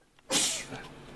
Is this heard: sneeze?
yes